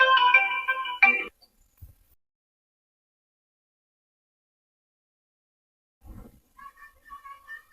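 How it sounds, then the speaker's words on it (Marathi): A phone ringtone plays a short melodic burst, then silence, and the tune starts again faintly near the end. "अरे गौरव, मुंबईवरून दादाचा फोन आलाय."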